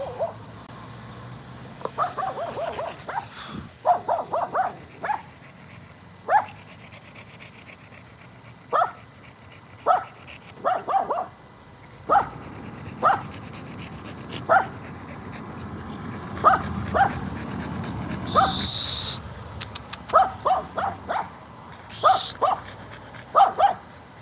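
A dog barks repeatedly in short bursts at irregular intervals, moderately near, over a steady high insect-like hum in the background.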